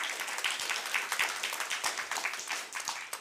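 An audience at an annual general meeting applauds, giving a steady, dense patter of many hands clapping at close to moderate distance, with no voices over it.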